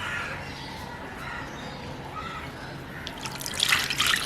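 Water poured from a vessel onto tamarind to dissolve it for Jaffna odiyal kool, a short bright splashing pour near the end that follows quiet kitchen background.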